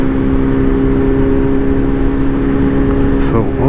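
A Kawasaki Z900 motorcycle fitted with a Brock's Performance ECU flash tune cruises along a road, its engine holding a steady, loud drone throughout with a brief rising whir near the end, and a voice over it.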